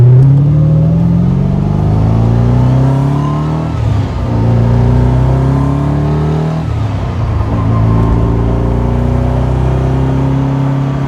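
A loud 1999 Shelby Series 1 sports car engine revs repeatedly, its pitch climbing through the gears with brief dips between shifts and a faint transmission whine underneath.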